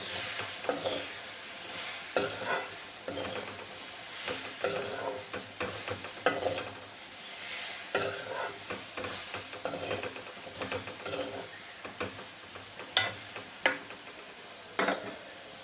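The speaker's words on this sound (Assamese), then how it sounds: "এতিয়া ভালদৰে লৰাই ল'ম।" Taro (kochu) stirred with garlic in a pan: repeated scraping, clattering strokes of a spatula over a soft sizzle, steady rhythm with a few sharper knocks, close and alone with no talk.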